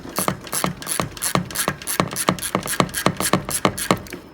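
Ratchet wrench with a 3-inch extension loosening the transmission drain plug on a Harley-Davidson Dyna Low Rider S, a steady run of about fifteen crisp clicks close up, with no talk.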